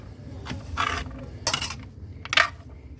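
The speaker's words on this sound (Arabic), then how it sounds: "وهقلب برضو البصل والثوم مع الفراخ كده" Onion, garlic and chicken get stirred in a pot, a spoon scraping and clinking against the metal in three short bursts separated by quiet sizzle.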